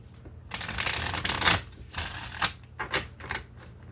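A deck of Angel Tarot cards is shuffled nearby, producing a dense, papery riffling that runs for a few seconds and then breaks into shorter flicks, with no speech.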